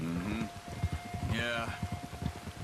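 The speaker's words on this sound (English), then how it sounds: "You were right about the damn rain" Steady rain patters in Red Dead Redemption 2, a soft continuous hiss of falling drops beneath characters speaking close by.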